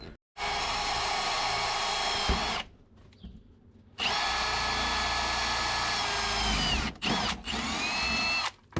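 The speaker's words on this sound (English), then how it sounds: "I got the air compressor over here. You can get that those metal shavings off the paint." An air compressor nozzle blows metal shavings off a painted AC delete plate for a turbo car project, loud sustained hissing bursts with brief pauses and short stuttering blasts near the end.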